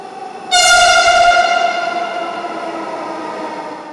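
A metro rail train sounds a long, loud horn that starts abruptly and holds steady, then fades slightly as the train runs on, heard close with no talking.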